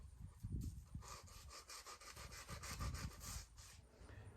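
A dogwood arrow shaft is smoothed by hand with steady back-and-forth rubbing strokes, a close, rhythmic scraping that repeats about twice a second and never stops.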